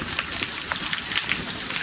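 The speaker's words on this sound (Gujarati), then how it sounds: "જોઈ લ્યો કે કેવો શૂટ વરસાદ આવે છે, કેટલો ફૂલ વરસાદ આવે છે" Heavy rain pours down in a dense, steady hiss with scattered spattering drops, close and unbroken.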